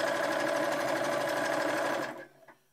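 A sewing machine stitches around a garment neckline, a steady fast buzzing run for about two seconds that then stops abruptly.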